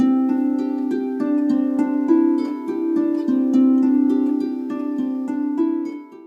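A double strung harp plays a contrary-motion pattern, one hand rising while the other falls, with steady evenly plucked notes ringing over a sustained low drone, close and clear with no talking.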